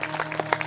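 Applause at a Shrimad Bhagwat Katha religious gathering, a brief stretch of scattered claps over a steady hum.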